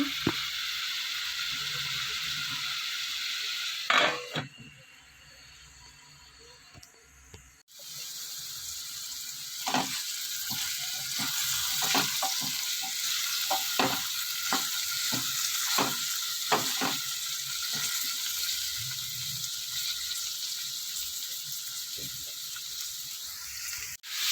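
Ginger garlic paste and tomato fry in a pan, a continuous hiss of sizzling that briefly drops out partway through and then returns, with scattered sharp clicks and clatters of utensils against the pan.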